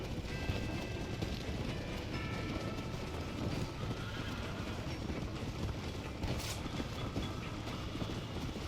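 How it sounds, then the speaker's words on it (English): Train running on rails in Red Dead Redemption, a continuous loud rumbling rattle of wagons mixed with galloping horse hooves and a brief whinny, with no talk. "The train is getting away!"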